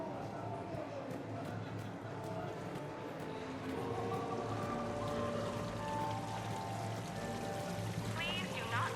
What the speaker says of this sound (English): Please do not touch the waterfall.